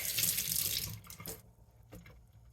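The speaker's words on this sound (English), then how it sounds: "So only thing I do is just rinse, give it a little shake" Tap water runs over garden greens in a colander, a bright close splashing rush that stops after about a second and a half, followed by faint drips and handling sounds.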